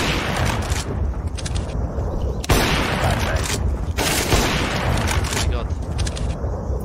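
AK rifle fire in Counter-Strike crackles loudly and close in rapid bursts, with dense overlapping shots, brief pauses and excited voices over the gunfire.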